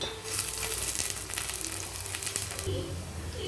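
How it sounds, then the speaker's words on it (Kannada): Onion, cloves and cinnamon sizzle in hot oil in a pan, a close, steady crackling fry with a brief stirring scrape near the end. "ಆಯಿಲ್ ಹಾಕ್ಕೊಳ್ತಿದ್ದೀನಿ. ಆನಿಯನ್ ಹಾಕ್ಕೊಳ್ತೀನಿ. ಇದು ಕ್ಲೋವ್ಸ್ ಮತ್ತು ಸಿನ್ನಮನ್"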